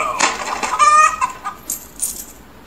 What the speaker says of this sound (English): There was a giant with a chicken that laid golden eggs